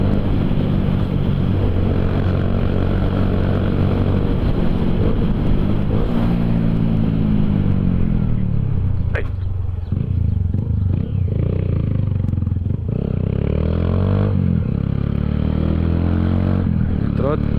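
A motorcycle with an aftermarket exhaust revs and climbs through the gears on a freshly paved road, its engine loud and close throughout with rising and falling pitch sweeps, while a rider talks over it.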